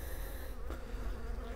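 Honeybees buzz steadily and densely during a hive frame inspection with larvae on the frame, a continuous close drone of many insects with no talking.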